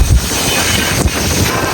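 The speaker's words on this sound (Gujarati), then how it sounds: "ફૂલ અવાજ એવું છે ભાઈ. આ પવન એટલો આવે છે ને." Strong storm wind buffets the microphone, making a loud, rough, continuous roar with gusty low thumps.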